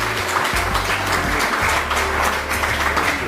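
An audience at a Gujarati poetry book launch and poets' gathering applauds, with steady, dense clapping that carries evenly through the whole stretch.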